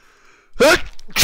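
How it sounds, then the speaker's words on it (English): A single abrupt sneeze bursts out after a quiet moment, loud and close, followed by a brief breathy sound. "That was a sneeze."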